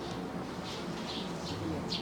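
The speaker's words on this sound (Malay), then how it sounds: "Rayuh burung tu pagi-pagi. Burung apa? Tiung." Early in the morning a myna bird gives a run of short, fairly faint chirps at a steady rhythm, set against constant background noise.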